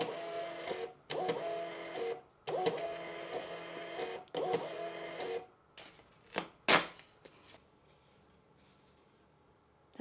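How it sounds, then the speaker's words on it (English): A compact MUNBYN 403B thermal label printer runs off several gold labels in a row, giving a steady whirring buzz in repeated bursts with short pauses, then a few clicks and a tearing snap near the end. "printers is its ability to print things very quickly and multiple copies of that same thing very, very quickly"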